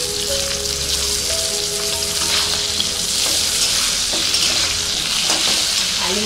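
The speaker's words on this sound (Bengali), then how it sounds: "ফোড়নে আমি কালো জিরেটা দিয়ে দিচ্ছি। এবার আলুগুলো দিয়ে দিচ্ছি।" Potatoes frying in a little oil tempered with nigella seeds, a dense, loud, continuous sizzle and crackle with occasional stirring scrapes, close to the pan.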